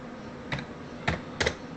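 A computer keyboard clicks three times in short, separate bursts, close and fairly quiet, as a command is typed on it.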